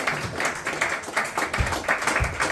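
Wedding guests at an evening reception clap together in a lively round of applause, with a few louder claps standing out in the crowd.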